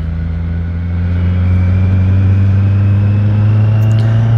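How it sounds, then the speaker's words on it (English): Kawasaki Z900 motorcycle exhaust rumbling steadily up close, a loud, sustained low engine drone that swells slightly after the first second and holds without voices. "I'm gonna put a video up for the stock exhaust sound versus this sound"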